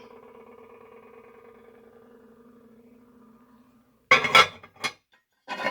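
Small Taiwan cast iron skillets clank and knock together in a few sharp metallic hits near the end, following a quiet stretch of faint tonal background hum.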